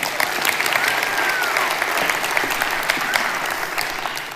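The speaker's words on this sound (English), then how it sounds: "Give her a round of applause." A seminar audience breaks into applause, a full, even roar of many hands clapping that holds steadily from start to finish.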